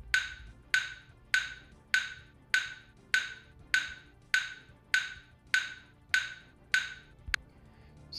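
A metronome set to 100 beats per minute ticks steadily about a dozen times. The clicks are evenly spaced, sharp and fairly quiet, and nothing else is heard.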